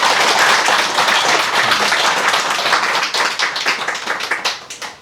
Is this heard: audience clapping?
yes